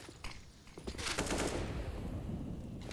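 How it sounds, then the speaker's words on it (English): Pistol fire from a USP in a professional Counter-Strike match at IEM Katowice: a rapid burst of gunshots over a dense, continuous roar of in-game action and crowd noise. "Good damage with the USP, but Shiro's still standing."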